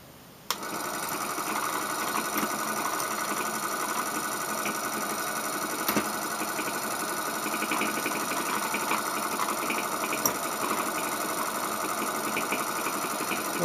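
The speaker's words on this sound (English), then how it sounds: "This little motor still can be run, but you have to get it up to the speed of this one." A small homemade Neuman magnet motor starts abruptly and then runs with a continuous high whirring hum, steady and close, with a couple of faint clicks and no speech.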